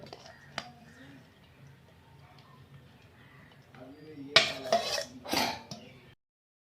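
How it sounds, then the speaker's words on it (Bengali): Shrimp, vegetables and paneer being mixed together in a bowl for restaurant-style mixed fried rice: quiet handling at first, then a short run of loud clattering and scraping of utensils against the bowl near the end. "আমি চিংড়ি মাছ, সবজি, পনির সব দিয়ে দিচ্ছি একসাথে মিশিয়ে।"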